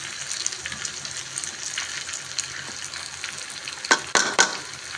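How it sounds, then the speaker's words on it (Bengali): Boiled noodles for classic chowmein dropped into a hot pan and tossed, giving a steady close sizzle, with a few sharp metallic clatters and scrapes near the end and no speech. "এই যে আমাদের সিদ্ধ করে রাখা নুডলসটা দিয়ে দিচ্ছি, একটু ছাড়িয়ে দিচ্ছি।"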